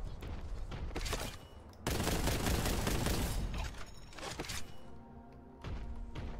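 Rapid gunfire in the Boltgun video game rattles in dense bursts, with a loud sustained volley in the middle and quieter shots and mechanical thumps around it.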